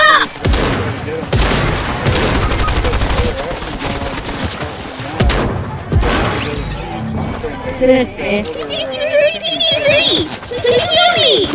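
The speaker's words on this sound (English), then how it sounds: "Heavy fire there." Heavy gunfire from the Fortnite video game, with dense bursts of shots and crashing impacts running continuously and loudly under excited players talking.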